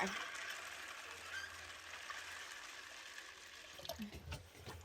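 Water pours from a big jug over dried beans in a pot, a soft, continuous gush and splash that stays quiet and close, with a few small clunks near the end.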